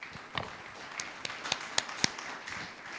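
Sparse, scattered handclaps from a church congregation at the close of an evening service, a few distinct claps ringing out over a quiet room rather than full applause.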